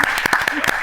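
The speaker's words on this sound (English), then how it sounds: "please give our panel a round of applause" An audience gives a panel a round of applause, a dense, steady clatter of many hands clapping together in a hall, with voices mixed in beneath it.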